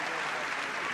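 Audience applause at an international invitational dog agility competition, steady broadband clapping from a crowd filling the whole second without a break.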